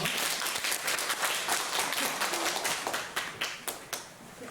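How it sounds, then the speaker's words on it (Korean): Church congregation clapping in welcome during an afternoon worship service, a brisk round of applause that thins out toward the end into a few separate claps. "박수로 환영하겠습니다"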